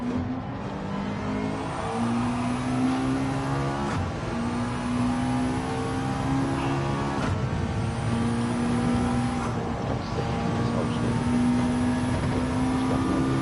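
Race car engine in Gran Turismo 7, loud and close, with rising revving tones broken by sharp gear shifts several times across the run, no voices over it.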